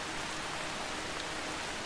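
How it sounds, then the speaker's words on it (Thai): Heavy rain pours in Assassin's Creed Shadows as a dense, steady hiss of drops that fills the scene with no break. "อย่าบอกนะว่าเพิ่งรู้สึกตัวว่าฝนตกหนัก"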